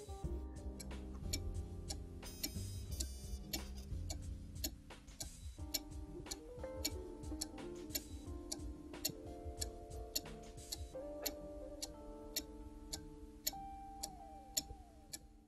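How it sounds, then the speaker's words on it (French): An original Black Forest cuckoo clock ticks steadily in a regular tick-tock, close and clear, over a low background hum with no talking. "ajustez l'horloge au mieux jusqu'à obtenir un tic-tac régulier"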